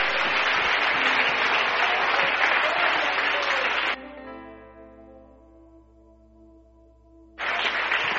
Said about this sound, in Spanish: Aplauso al que se merece la gloria y la honra.